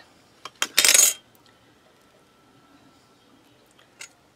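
A blade slices through a polymer clay kaleidoscope cane built from leftover canes: one short, crisp cut with a few faint taps before and after, close and quiet, with no talking.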